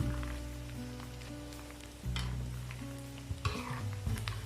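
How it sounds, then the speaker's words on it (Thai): Pork belly deep frying in a pan of oil, a steady close sizzle with occasional soft pops and a few sharper crackles toward the end, with no voices. "น้ำมันไม่กระเด็นค่ะ แต่ก็มีปุ๊บป้าอยู่บ้าง"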